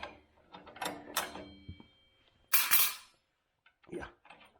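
Wrench loosening and unscrewing the arbor nut on a table saw blade, a few close mechanical clicks and ratcheting bursts separated by short pauses, with one sharper metallic burst midway.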